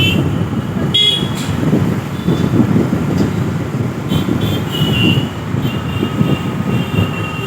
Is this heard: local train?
yes